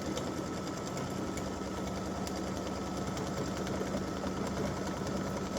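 A sewing machine stitches a quilted mug rug, running at a steady, continuous hum with an even mechanical rhythm throughout, close by and fairly quiet.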